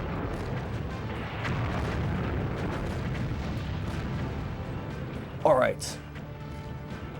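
Tank cannon fire and explosions rumble through a BattleTanx battle on the Nintendo 64 as a southeast fortress's heavy guns are destroyed, with a louder burst near the end and someone speaking briefly.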